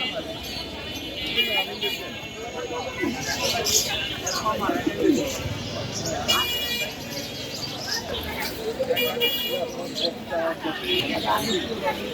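Mondain pigeons coo at a busy bird market, soft repeated calls mixed with other birds and steady crowd chatter throughout.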